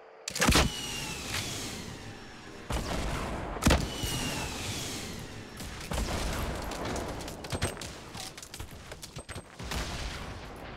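Gunfire crackles through a fight in the video game Fortnite: Battle Royale, with several sharp, loud shots and short bursts spread across the stretch over a continuous bed of game noise, with no voices.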